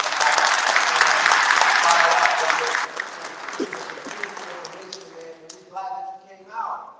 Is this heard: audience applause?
yes